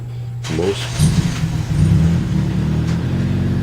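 A Toyota Corolla engine idles and then pulls away, a steady low rumble rising after a brief start and continuing at moderate level throughout.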